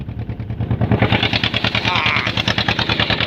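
Small outboard-powered wooden fishing boat with its engine running close by, a loud steady rhythmic chugging with regular pulses that holds throughout, no voices over it.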